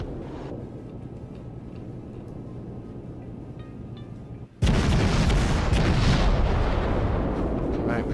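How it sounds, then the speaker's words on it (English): Warship main guns fire a salvo in the naval combat game World of Warships, a sudden loud blast that swells into a sustained heavy roar filling the second half, following a quieter stretch of engine rumble. "We probably missed with all those shots, but we got them off, right?"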